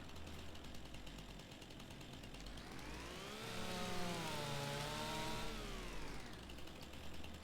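In the Farming Simulator game, a chainsaw cuts logs: a steady buzzing drone that swells into a rising, whining cut and then eases back down, heard alone without talk.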